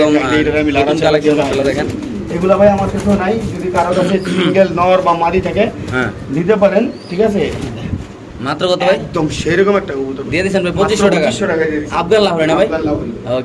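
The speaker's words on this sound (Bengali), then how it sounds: "আফগান লাহোরি কবুতর আফগান লাহোরি কবুতর" Afghan Lahori pigeons coo in soft, repeated burrs while people talk loudly and almost without pause over them, the birds mostly buried beneath the conversation.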